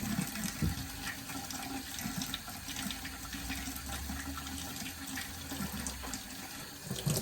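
Tap water runs steadily into a pot, a continuous splashing rush with low gurgling that holds even throughout, close by.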